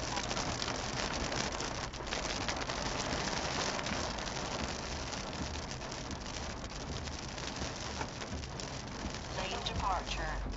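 Rain drums steadily on a Ford Ranger while it is being driven, a dense constant patter against the body and glass with a low road rumble underneath and faint talk in the cabin.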